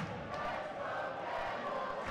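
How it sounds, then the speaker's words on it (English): A hockey arena crowd at a college men's ice hockey game in Steel Hall keeps up a steady, broad roar of chanting voices, sustained and moderately distant, filling the hall without pause. "Let's go Devils, the chant here from the Steel Hall crowd."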